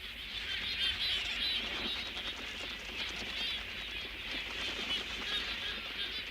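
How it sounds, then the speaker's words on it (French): Dense flocks of terns, boobies and frigatebirds wheel over Clipperton Island. Their massed calls and chatter make a continuous, moderately loud wash with no single voice standing out. "les immenses et bruyantes volées d'oiseaux qui se déploient comme une bannière dans le ciel de l'île"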